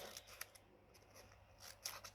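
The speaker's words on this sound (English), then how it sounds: "So I'm just slitting it with my scissors." Scissors slit along the edge of a paper or card craft piece in a few faint, quiet snips and slides at close range, with no one talking.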